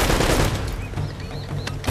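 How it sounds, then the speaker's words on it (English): Rapid machine gun fire in the video game Uncharted: Drake's Fortune, a dense continuous fusillade of loud close shots over the full two seconds with no talking. "Alright, the machine gun is not very nice."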